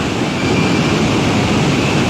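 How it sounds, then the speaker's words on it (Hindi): Flood water rushing across a road in Mansehra, a loud, continuous broadband roar of churning water with wind buffeting the microphone, steady throughout and without speech. "पानी रोड पे चढ़ गया है"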